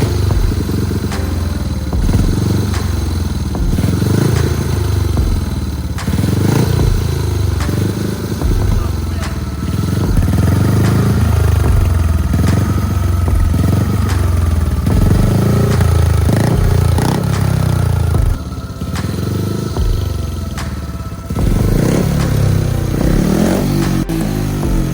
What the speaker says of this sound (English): turned the choke off, and then gave the bike a couple of revs.